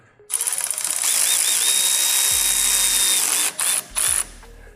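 A power drill runs down bolts while fitting a sway bar on a 1979-2004 Mustang: a loud, steady whirring burst with a ratcheting edge, rising and falling in pitch, then stopping and restarting in two short pulses.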